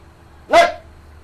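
A single sharp dog bark outdoors near a cliff face, one short loud yelp close by against quiet background, with no talk.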